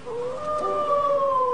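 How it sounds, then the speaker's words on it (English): A dog howling in the Haunted Mansion attraction at Walt Disney World: one long, wavering, mournful howl sustained from start to end, fairly loud and alone. "one that everyone will recognize, the howling dog"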